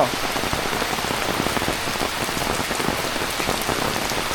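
Heavy rain pours down steadily in a village setting, a dense, continuous hiss and patter of drops on surfaces filling the whole clip at close range, with no voices.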